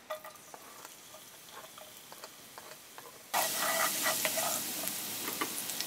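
Finely minced garlic crackles quietly in grape seed oil in a frying pan, then bursts into a loud, dense sizzle that stays strong and even. It is heard up close with no talking.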